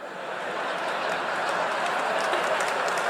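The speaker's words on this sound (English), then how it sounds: "Slow applause, you know, all right." A crowd claps steadily in a dense, continuous wash of applause, moderately loud and sustained throughout.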